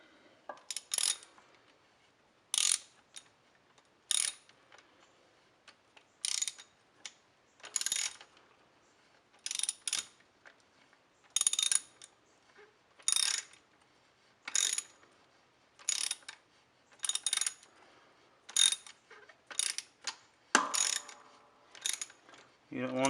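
A ratchet tightens coil pack bolts on a Ford 5.4 engine in short bursts of rapid metallic clicking, separated by brief pauses, close up.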